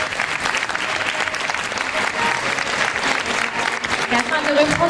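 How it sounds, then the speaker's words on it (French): Loud, dense applause from a gala audience for pageant candidates, a continuous roar of clapping with cheering voices mixed in throughout. "Donc on peut les applaudir une dernière fois."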